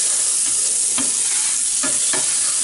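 Butter sizzling on a new Blackstone griddle, a steady close hiss with a few scraping or stirring strokes against the flat top.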